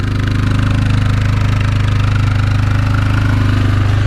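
A 2004 Yamaha Kodiak 450 ATV engine idles steadily after a cold start, a loud, close, even mechanical chug with a rapid regular pulse throughout and no voices.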